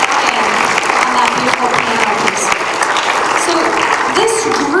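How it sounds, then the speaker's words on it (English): Audience at a middle school winter concert applauding, a dense, steady wash of clapping from a crowd that stays loud for the whole stretch, with some voices mixed in. "one more round of applause for our two student accompanist"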